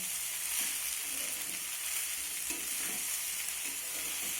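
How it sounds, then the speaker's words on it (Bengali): Noodles mixed with a packet of Maggi masala fry and get stirred in a pan. A steady, close hiss of sizzling runs throughout, with soft scraping stir strokes coming at intervals. "ম্যাগি মশলাটা দেওয়ার পর আমি আবারও নেড়ে চেড়ে এটাকে রান্না করে নেব"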